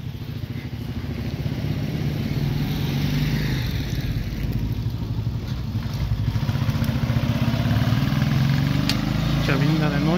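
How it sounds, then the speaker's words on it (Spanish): Motorcycle engines drone steadily through the streets of Chavinda at night, several bikes idling and passing in a continuous rumbling mix, with faint chatter in the background. "Chavinda de noche con muchas motos."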